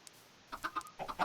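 Chickens in a Minecraft modpack (All the Mods 6) cluck in a quick run of short clucks after a brief pause, faint and clear with no talk.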